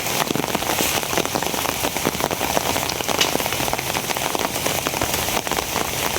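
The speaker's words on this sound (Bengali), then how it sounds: "বৃষ্টি শুরু হয়েছে এই বৃষ্টি সহজে আজকে কি থামবো কিনা কেটা জানে" Heavy rain falling steadily outdoors, a dense unbroken hiss of drops drumming on surfaces with fine crackling patter throughout, loud and even with no voices.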